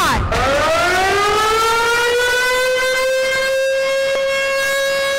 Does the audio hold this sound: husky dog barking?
no